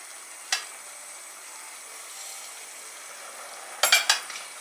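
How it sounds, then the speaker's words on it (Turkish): Orzo sizzles softly in oil in a Tefal non-stick pot with a clip-on lid, a faint continuous hiss broken by a sharp utensil clack early on and a short cluster of stirring scrapes and knocks near the end. "Tencereye bir miktar arpa şehriye koyalım."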